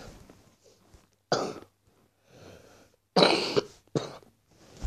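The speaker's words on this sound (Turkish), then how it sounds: "Niye öksürüyorum diye soracaksınızdır." Several sharp, loud human coughs from someone who is ill burst out in separate bouts, with quieter breathy sounds between them and no speech.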